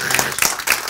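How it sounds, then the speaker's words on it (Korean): A church lecture audience claps together in a short, dense burst of applause that fills the moment, loud and close. "박수"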